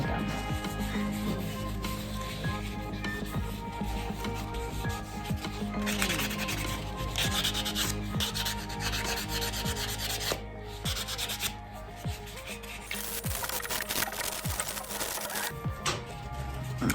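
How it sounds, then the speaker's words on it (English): A buffing block is rubbed back and forth over natural fingernails at home, making a continuous close, dry scratchy rasp with quick repeated strokes. "So what I do with this buffing block, I got this from the dollar store."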